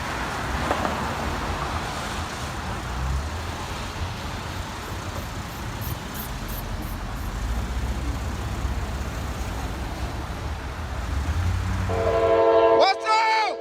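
An empty runaway train rolls along the line, a steady broad rumble of wheels on track running throughout and swelling louder near the end with a sharp screeching tone, alone without talk.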